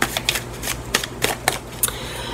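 A deck of tarot cards is cut and shuffled close by, a run of crisp riffling bursts and soft slaps in a steady rhythm, with no voices.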